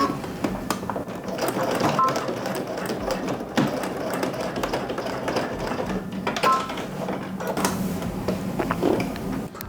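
Sewing machine stitching to secure a replacement hook and eye about 1/8 inch from a seam, a steady close mechanical whir running throughout with a few brief clicks, no talking.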